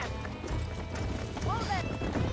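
Horse hooves clip-clopping at a steady trot in the video game Red Dead Redemption, heard under a man's speech amid outdoor ranch ambience.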